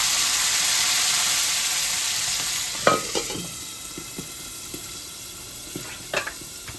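Dried red chillies, nigella seeds and chickpeas frying in hot oil, a loud bright sizzle that slowly settles, with a few sharp pops and spits from the pan in the latter half.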